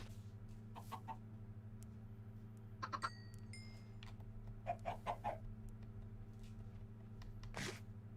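Chickens in the Minecraft video game give several short, faint clucks spread out over a steady low background hum, with no talking.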